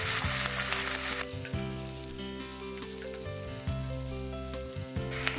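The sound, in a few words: ginger and garlic sizzling in hot coconut oil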